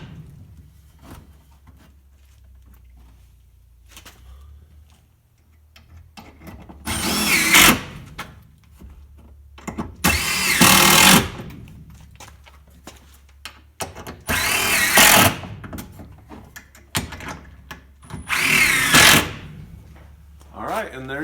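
A power drill pre-drilling and driving screws whirs in four loud bursts, each a couple of seconds long, separated by pauses with a person talking quietly in between.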